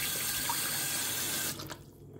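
A kitchen tap runs steadily into a sink while food is washed, a close, continuous rush of water that cuts off near the end, leaving a few faint drips and clatters.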